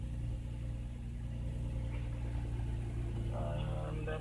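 A 2004 Infiniti FX35 with its check engine light on idles steadily, a low, even engine hum that stays close and constant throughout.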